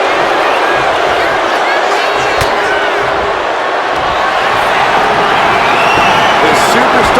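A wrestling event crowd roars and cheers continuously, loud and dense throughout, with a commentator talking over it.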